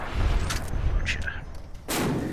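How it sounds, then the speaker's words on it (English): A flashbang goes off in modded Fallout: New Vegas: a sharp burst that leaves a loud, sustained broadband ringing wash, following earlier rumbling combat noise. "Oh, flashbang, gotcha."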